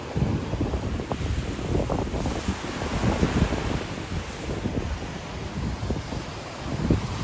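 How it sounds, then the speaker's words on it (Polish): Strong wind gusts buffet the microphone at the seaside beside a beach hotel, with surf rolling in underneath, a steady loud roar throughout with no voices. "Strasznie wieje i dlatego."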